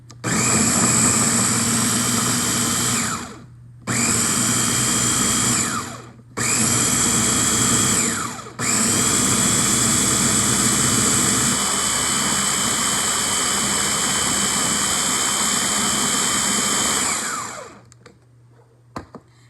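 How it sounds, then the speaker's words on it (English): A blender roars loudly while blending a frozen daiquiri, in long steady runs, stopping briefly twice before a sustained stretch, then winding down to quiet at the end. "Next, I'm going to blend until it is nice and smooth. So right now I'm just blending."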